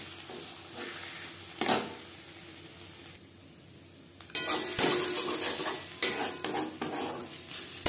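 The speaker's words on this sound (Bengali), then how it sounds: "লো টু মিডিয়াম ফ্লেমে নাড়াচাড়া করে নেব যতক্ষণ না পর্যন্ত কড়াই থেকে পুরোপুরি আলাদা হয়ে আসে।" Thick taro leaf paste being stirred and scraped in a kadai over a low-medium flame, soft sizzling with intermittent spatula scrapes and clinks, louder bursts of stirring in the second half after a brief quieter pause.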